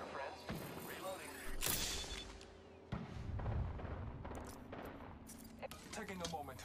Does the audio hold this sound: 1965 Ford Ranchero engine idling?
no